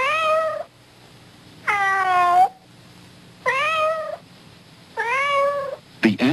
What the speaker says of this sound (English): We ask cats all over America what cat food they like best.